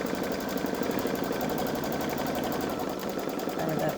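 A Babylock Solaris 3 embroidery machine runs a placement stitch, a steady close mechanical whir with fast needle chatter throughout, without pause.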